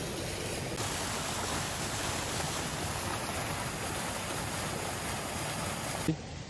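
Water rushing steadily down a channel into the water tank of a Pakistani mountain village, a continuous close hiss with no voices, ending in a brief knock.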